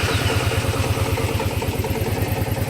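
A 420 ATV engine with a rebuilt motor idles in a steady, fast, even thump with a slight mechanical clatter, close and loud with no talking.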